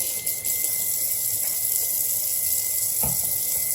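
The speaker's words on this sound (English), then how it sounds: "let me wash hands" Hands being washed under a running kitchen sink tap while preparing meatloaf burgers, a steady close hiss of flowing water with faint splashes and no talking.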